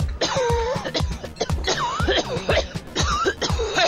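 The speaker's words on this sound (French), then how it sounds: "Oui, quelqu'un a toussé." Repeated coughing played as a sound effect through a 100-watt device loudspeaker: several loud, close, harsh cough bursts in quick succession with short gaps between them.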